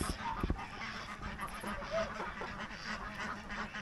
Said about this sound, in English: How beautiful are those ducks?